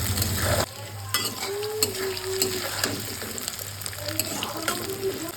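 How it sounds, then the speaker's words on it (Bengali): Chopped onion frying with cumin seeds and bay leaf, a loud hiss at first that settles into a steady sizzle with spatula stirs and light pan clinks, plus a short high-pitched squeak or two. "কাঁচা জিরে ফোড়ন, তেজপাতা ফোড়ন দিলাম, দিয়ে দিলাম পেঁয়াজ কুচি।"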